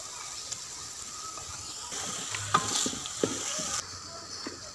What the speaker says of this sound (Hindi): अब इसमें चमचे को चलाते जाएंगे ताकि ये नीचे ना लग जाए